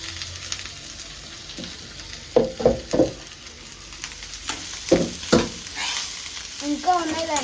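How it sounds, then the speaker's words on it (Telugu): Onions fry in hot oil for a homemade curry, giving a soft continuous sizzle broken by several sharp scraping and clattering bursts as the pan is stirred. "నూనె అయిన తర్వాత ఉల్లిగడ్డలు వేసుకుంటాం."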